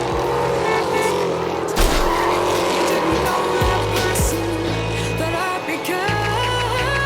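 A loud engine roars and whines as a race car slides through a curve at a drag racing event, its pitch shifting, with other engines droning nearby.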